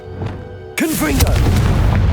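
Confringo blasting spell from Hogwarts Legacy bursts into a sudden loud boom after a moment of low ambience, followed by a crackling, rumbling tail and a short vocal exclamation riding over the blast.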